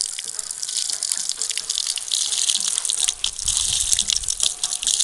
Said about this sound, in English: That's how people in the village, they draw their water, and this water is very fresh.